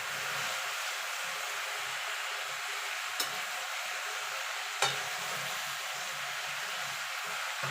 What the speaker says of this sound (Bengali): এবার পালং শাক অল্প অল্প করে দেবো